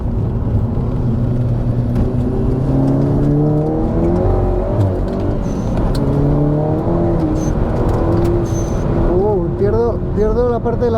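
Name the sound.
VW Golf GTI car accelerating on a wet track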